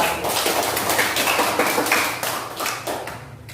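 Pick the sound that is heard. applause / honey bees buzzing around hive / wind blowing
applause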